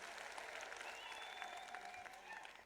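Faint audience applause at a political gathering, steady clapping over a few seconds, distant and low in level.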